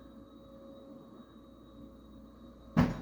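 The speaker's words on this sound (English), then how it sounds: "hitting the door with a vacuum" A single short thump sounds as a vacuum cleaner knocks against a door, after a stretch of quiet room hum.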